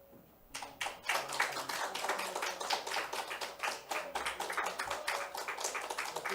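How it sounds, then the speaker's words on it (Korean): Congregation clapping at a church infant dedication and Sunday worship service, a dense run of hand claps starting after a brief quiet moment and continuing steadily, moderately loud and close, with no talk over it. "박수로 격려해 주시기 바랍니다"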